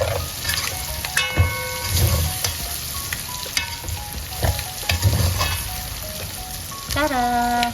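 Turmeric-coated chicken pieces sizzle and crackle steadily as they fry in a pan, with occasional light clinks of a utensil against the pan and a brief tonal whine near the end.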